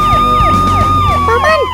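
A loud cartoon emergency siren warns of a fire, its wailing tone sweeping up and down repeatedly and continuously for the whole stretch.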